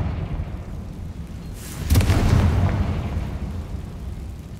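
A Confringo fire spell goes off in Hogwarts Legacy, a deep rumbling blast that swells about two seconds in and then rolls away slowly beneath a steady ambient drone.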